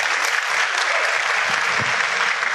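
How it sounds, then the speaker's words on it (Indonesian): Audience at an Indonesian motivational seminar bursts into steady, dense applause that fills the room from start to finish, with no talk over it. "Aplaus dulu untuk Bapak Ibu semua."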